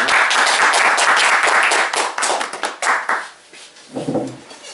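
An audience claps for a speaker being welcomed at an evening nutrition training session, with dense, fairly loud applause that thins into scattered claps and fades, ending with a brief murmur of voices.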